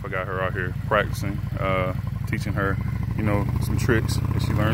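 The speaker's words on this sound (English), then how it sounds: "So if you hear engine revving up in the background" A Suzuki Boulevard M109R motorcycle engine hums and revs in the background, steady and fairly low under someone talking close up.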